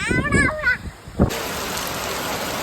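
A voice speaks briefly, then steady first-monsoon rain pours down in a Gujarati village, a loud, even, close hiss of falling water.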